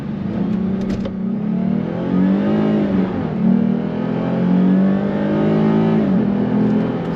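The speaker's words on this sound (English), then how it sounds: "This is a good opportunity to give the car a little wide open throttle pull." A rear-wheel-drive used car pulled at wide-open throttle on a wet road, its engine droning loud and close as it climbs in pitch through several gears, with brief dips at each shift.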